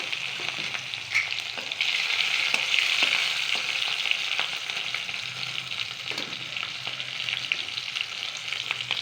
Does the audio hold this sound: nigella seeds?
yes